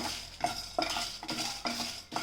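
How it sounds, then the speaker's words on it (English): Chilies and spices dry-roasting in a pan, a soft continuous rustle with about five distinct scraping strokes of a spoon or spatula against the metal, close and fairly quiet. "dry roast all these ingredients and then let it cool."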